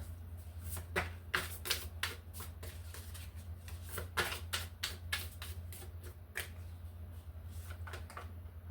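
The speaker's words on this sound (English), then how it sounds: "cutting the deck" A tarot deck is shuffled and cut by hand, giving quiet, crisp riffling flicks and card snaps in uneven bursts over a low steady hum, with no talking.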